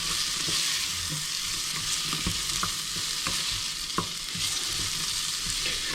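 Ground beef frying with softened peppers in a pan, a steady close sizzle with scattered scraping clicks as the mixture is stirred, no voices.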